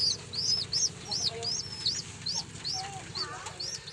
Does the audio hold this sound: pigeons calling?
yes